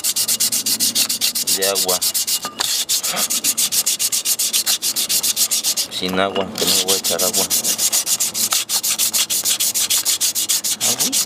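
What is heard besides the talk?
sanding a brake drum with sandpaper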